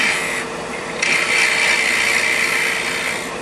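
A power tool bores a center hole in wood for a wooden ring, a steady close whirring grind that rises in intensity partway through and holds.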